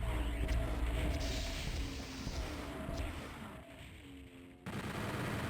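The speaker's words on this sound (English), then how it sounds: "the mancubus took a shot at me" Heavy fireball shots from a mancubus attacking the player in the video game Doom 64, a dense, loud stream of gunfire-like blasts with layered explosive rumble throughout, dipping briefly near the end before resuming.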